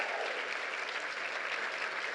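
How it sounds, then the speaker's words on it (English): Audience applause for executive producer Will Packer as he is brought onto a stage, steady dense clapping filling the hall at close range with no talk over it. "Give a round of applause,"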